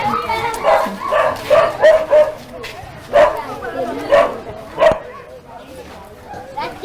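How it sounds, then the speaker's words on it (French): A neighbourhood dog in the Tergal quarter of Douala, Cameroon, barks and yips in a series of short bursts, fairly close, while someone speaks over and between the barks. "le chien de votre quartier qui est en train de nous accueillir"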